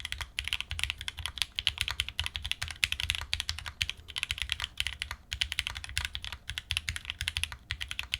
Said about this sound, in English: Kailh switches that are pretty smooth and sound great stock.